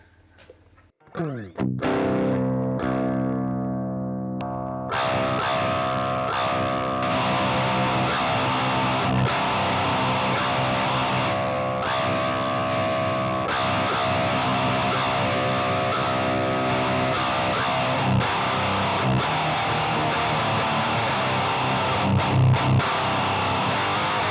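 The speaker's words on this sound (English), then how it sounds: "a really dry and dirty HM2 sound" Heavily distorted electric guitar chugs through an HM2-style distortion, dry and dirty, with a thick, buzzy, saturated tone, sustained and loud throughout with no voices.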